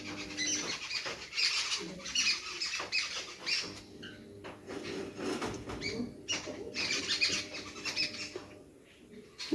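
A flock of jungle babblers chatters harshly and continuously nearby, scratchy overlapping calls with brief lulls, over faint background noise.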